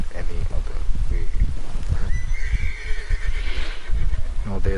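A horse whinnies in Red Dead Redemption 2, a rising, wavering neigh in the middle of a busy mix of hoofbeats and game noise, with someone talking over it.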